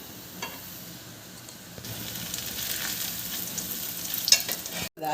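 Quiet sizzling of bread pieces frying in hot oil until golden for a sweet, growing a little louder partway through, with occasional crackles and a faint stir near the end.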